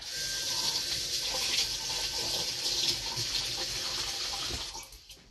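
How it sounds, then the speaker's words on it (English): Hands being rinsed under a running kitchen tap after shaping burger meat, a steady close hiss of flowing water that carries on evenly and then cuts off near the end. "I'm going to put one of the balls of meat and rinse my hand."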